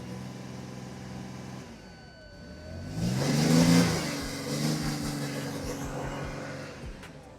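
A Range Rover engine idles unevenly, drops, then is revved hard with a loud rising roar before the revs sag and it stalls, leaving a few faint clicks and knocks.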